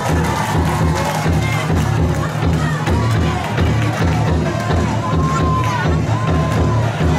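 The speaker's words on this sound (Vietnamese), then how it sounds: "khán giả cho một tràng vỗ tay cổ vũ hai đôi" Spectators at a traditional men-versus-women wrestling bout in a ring at Ninh Hiep cheer and shout in a loud, dense, continuous roar, with steady crowd noise throughout and voices rising and falling.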